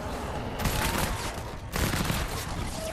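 Fortnite's eight-barreled Bundlebuss assault rifle fires rapid crackling bursts, a sustained volley cut by a brief pause before a second dense burst, loud and close with no talk over it.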